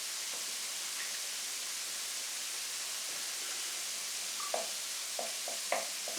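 Spaghetti bolognese ingredients sweat and sizzle gently in a pan, a soft even hiss with a few light stirring taps near the end.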